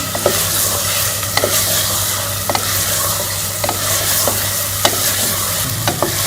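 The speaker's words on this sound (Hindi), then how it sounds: "अब हम इसमें ये चिकन शामिल कर लेंगे और चिकन को भी जो है वो मसाले में अच्छी तरह भून लेंगे।" Chicken pieces sizzle and fry in masala in a pan, loud and close, while a spoon scrapes and stirs with regular knocks against the pan. No one speaks.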